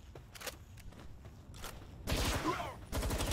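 Assault rifle fire in the game Palworld crackles in short bursts, scattered single shots early on, then a louder sustained volley and another close burst near the end.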